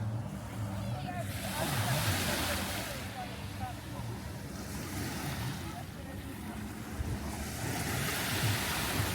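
Waves washing onto a Caribbean beach in St Thomas, a steady surging roar with gusty wind buffeting the microphone, rising and falling in slow swells throughout.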